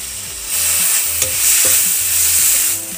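Spices and yogurt masala for Apollo fish fry sizzle steadily in a hot pan over medium flame, a close, loud frying hiss with a few light stirring scrapes.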